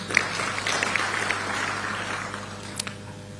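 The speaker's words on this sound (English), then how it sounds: "A round of applause." A crowd gives a steady round of applause after a national address, a moderately loud, even patter of many hands that tapers slightly near the end.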